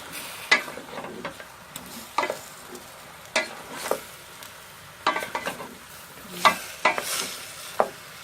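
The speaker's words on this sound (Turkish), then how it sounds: "Arada karıştırarak soğanlarımızı kavuruyoruz." Onions for a village chicken stew are stirred and sautéed in a pan, producing a faint sizzle under repeated light scrapes and taps of a utensil, close by, with no talking.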